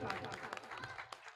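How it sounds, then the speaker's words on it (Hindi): Audience applause for a child performer at a live Chhath Puja stage event in Rohini, steady crowd clapping filling the clip, with voices and music mixed in. "सबसे पहले इस बच्चे के लिए जोरदार ताली बजाइए,"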